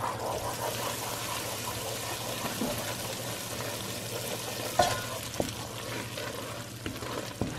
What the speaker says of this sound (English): And I'm gonna stir it up and then I'll add the flavoring.